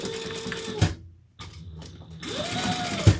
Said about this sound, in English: I'm going to do a basting stitch to start